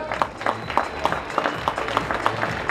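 Applause for the horses at an Icelandic horse breeding show in 2013: a small crowd claps in a steady, moderately paced rhythm at a medium distance, with low murmuring beneath.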